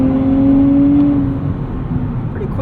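Engine of a 2024 Nissan Z Nismo rising under kickdown acceleration as it downshifts from ninth gear, a steady loud drone heard from inside the car, with a tonal whine fading partway through.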